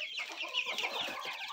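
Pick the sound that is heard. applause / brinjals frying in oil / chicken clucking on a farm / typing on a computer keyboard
chicken clucking on a farm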